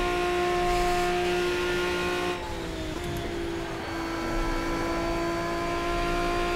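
LMP race car engine at the Nordschleife in Project Cars, a loud sustained high whine that holds in top gear, then shifts pitch slightly midway.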